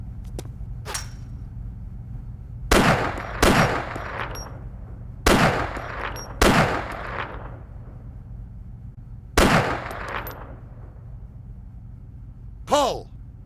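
Gunfire from a weapon in the video game ARMA 2: six sharp, loud shots spaced one to three seconds apart on a range over a steady low hum, each with a short decaying tail, plus a final metallic ringing sound.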